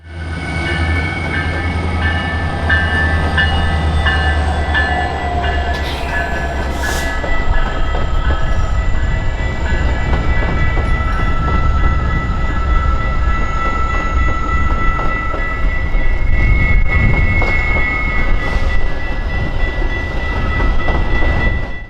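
Metra commuter train led by SD70MAH locomotive 507 rolls outbound past Clinton Street in downtown Chicago, a steady loud diesel rumble with rail clatter and a brief high horn or squeal midway, continuous throughout.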